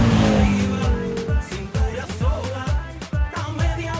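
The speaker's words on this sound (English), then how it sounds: "Number 8, 2010 Koenigsegg CCXR, Fast 5." 2010 Koenigsegg CCXR sports car in the film Fast Five, engine revving and shifting with rapid pitch swoops and tire squeal, mixed with film action sounds, loud and close.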